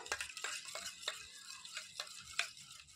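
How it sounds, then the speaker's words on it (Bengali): A spoon stirs baking powder and baking soda into milk for an eggless semolina sponge cake, giving a series of short, light clinks and scrapes against the bowl at an uneven rhythm, close and fairly quiet with no talking. "ভালো করে একটু মিশিয়ে নেব।"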